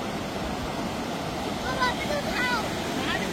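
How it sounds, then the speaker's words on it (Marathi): Water rushing over an overflowing dam spillway, a steady broad roar heard from nearby with faint background sounds. "डॅम ओव्हरफ्लो झालेला आहे,"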